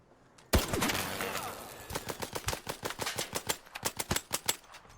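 Video game gunfire opens with one loud shot, then a rapid run of evenly spaced automatic shots rattles steadily to the end, close and crisp.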